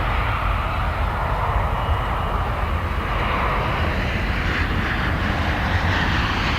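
An American Airlines Embraer 175 regional jet bound for Oklahoma City rumbles at DFW Airport, a steady, loud, broadband engine roar that holds evenly through the whole stretch with no voices.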